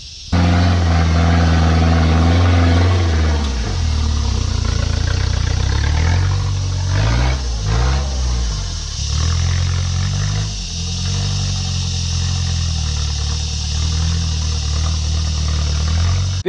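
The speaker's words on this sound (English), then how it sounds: "You can hear the diff going clunk clunk." Damaged 4x4 with a broken differential driven slowly on a rough trail, its engine droning steadily up close, with a cluster of irregular knocks and clunks in the middle and no talking.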